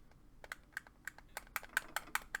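A Voyee game controller's D-pad is pressed repeatedly, producing a quick run of crisp plastic clicks that speed up and grow louder toward the end, close up and with no voices.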